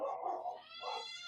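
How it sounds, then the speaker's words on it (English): Dogs whimper and yelp in a high, whiny, baby-like way, two bursts of close, fairly quiet crying with no talk over them. "Can you hear my dogs?"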